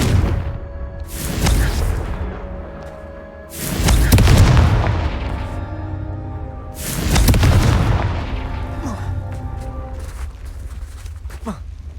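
Confringo fire spell explosions in the video game Hogwarts Legacy: three heavy, booming blasts spaced a few seconds apart, each rumbling loudly and fading slowly.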